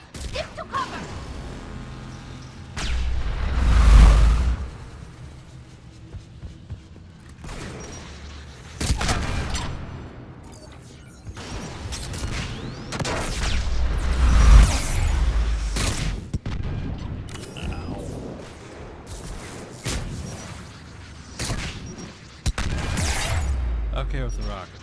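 Repeated rocket blasts and gunfire during a Mass Effect 3 firefight, heavy booming impacts recurring every few seconds amid scattered shots and crashes, with voices talking intermittently over the combat.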